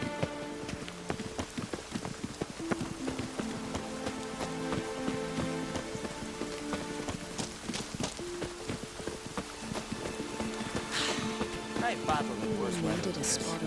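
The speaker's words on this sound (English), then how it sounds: "Needed a spot of rain." Steady rain patters on a surface in The Witcher 3: Wild Hunt under a layered music bed, with a few brighter splashy accents toward the end.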